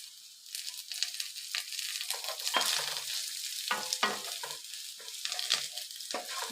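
Curry leaves dropped into hot oil with browned onion for semolina upma crackle sharply up close, bursts of sizzle with stirring scrapes in quick irregular rhythm, no talking.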